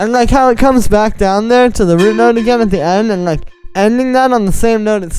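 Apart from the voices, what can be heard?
No distinct noise like a dog, phone or traffic.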